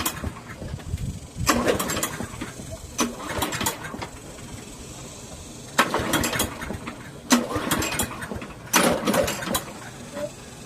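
A Briggs and Stratton 7HP Platinum series lawnmower engine is cranked repeatedly but fails to start, giving five or six short bursts of pull-start rattle and sputter separated by quiet gaps.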